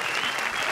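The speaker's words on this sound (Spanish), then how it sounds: "El aplauso a nuestra modelo." Studio audience on a Mexican late-night comedy TV show clapping for a model, a dense, steady burst of applause lasting under a second.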